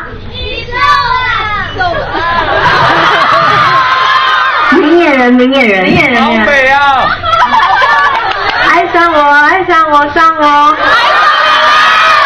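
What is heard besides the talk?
fans screaming and cheering at film premiere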